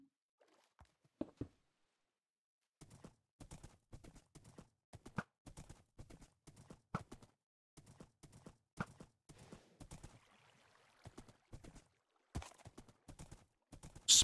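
Horse hooves clip-clop in a video game, a steady run of sharp, close hoofbeats at an irregular gallop-like rhythm, starting after a quiet opening and continuing to the end with no talk over them.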